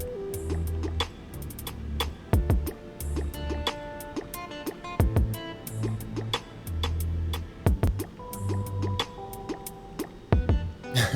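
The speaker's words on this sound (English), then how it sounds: "Test Nerd says he doesn't like the water drip sound." Water drip sound effects plink repeatedly in rhythm within a music beat, alongside punchy bass hits and percussion, playing loud and upfront with no voices.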